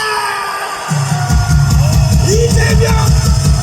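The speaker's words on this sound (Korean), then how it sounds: "함성 발사!" A large crowd at a political rally shouting a cheer, starting with a few voices, then swelling into a loud, rhythmic chorus of repeated chants with drum-like pulses.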